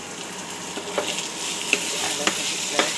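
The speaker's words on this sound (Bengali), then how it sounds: "আলু ভাজি প্রায় হয়ে গেছে" Potatoes fry in a pan for aloo bhaji, a continuous close sizzle broken by a few sharp clicks and scrapes as a spoon stirs them.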